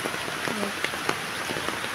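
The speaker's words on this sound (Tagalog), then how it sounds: "Ang lakas ng ulan." Heavy rain pours down during a walk outdoors, a steady dense hiss with scattered sharper drop hits, and a brief faint voice partway through.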